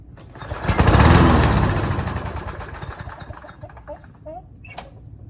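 A Troy-Bilt self-propelled lawn mower engine with no air filter runs close by, swelling to a loud rumbling roar, then settling into an uneven, sputtering putter with rattles as it slows.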